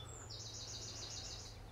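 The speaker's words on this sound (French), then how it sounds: "On entend les oiseaux chanter." Birdsong outdoors near the floating gardens of Amiens: one bird's bright, rapid trilling phrase rises above a faint low hum, fairly distant and quiet, with no talking.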